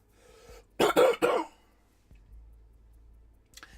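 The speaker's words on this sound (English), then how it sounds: "I'm just going to cough." A single short throat-clearing cough in two or three quick bursts, close and fairly loud against a quiet room, followed by faint low background rustle.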